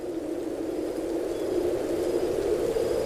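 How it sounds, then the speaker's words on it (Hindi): Steady, heavy rain pours in a continuous hiss and rush, loud and unbroken throughout, with no voices. "तूफान धीमा हो गया है, लेकिन बारिश पूरे जोरों पर जारी है"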